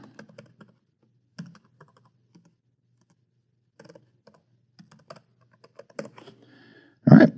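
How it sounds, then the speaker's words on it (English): A password is typed on a computer keyboard in scattered bursts of light, close key clicks separated by pauses. A single louder thump ends the passage. No one speaks. "Worst part of my day right now is typing passwords."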